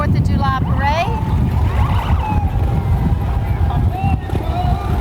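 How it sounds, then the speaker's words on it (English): Motorcycles from a Buffalo Soldiers club ride past in the Harrisburg 4th of July parade, a steady engine rumble with crowd noise and a faint wailing tone over it. "Motorcycles sound good, don't they?"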